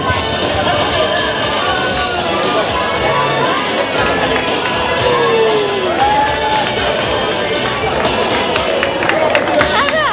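Spectators clap and cheer for runners crossing the finish line of the Cardacrucca 2019 race, crowd noise continuous and close, with an announcer talking over it and a few whoops rising through.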